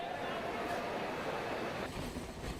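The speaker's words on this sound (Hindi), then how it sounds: "लोकल ट्रेनों की आवाजाही एक मधुर संगीत जैसा प्रतीत होता है।" A Mumbai local train moving along the track makes a continuous loud rumble with a steady broadband rush that stays even throughout, with no talk over it.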